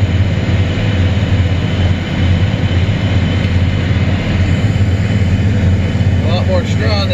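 Combine harvester busy threshing heavy straw in a field at the end of harvest, a loud continuous low engine and threshing drone running steadily throughout, close by, with a voice speaking over it.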